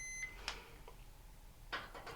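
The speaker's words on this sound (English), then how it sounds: "I have it to check for continuity as an audible beep." A volt-ohm multimeter set to continuity gives short, faint electronic beeps while a dryer thermostat is tested, with a couple of brief tones, a soft click and quiet room hiss between them.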